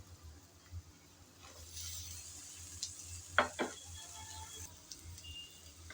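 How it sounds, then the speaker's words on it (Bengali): Taro stolons (kochur loti) sizzle quietly in a pan over heat, with a soft steady frying hiss and a few brief scraping stirs of a spatula, no voices. "কচুরলতি দিয়ে নেড়ে চেড়ে ভালোভাবে ভেজে নিতে হবে।"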